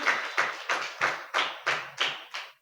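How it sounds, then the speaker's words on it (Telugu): Church audience clapping in about eight rhythmic, evenly spaced bursts, close and fairly loud, with no talk over it. "కొట్టరే చప్పట్లు."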